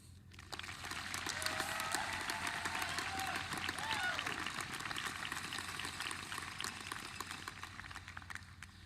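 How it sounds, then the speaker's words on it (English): Large outdoor crowd applauding graduating students at a university commencement ceremony, a broad hissing swell of distant clapping that rises after a moment and holds steady, with faint cheers and voices in the background. "can we begin with a round of applause to all the students that sit in front of me today?"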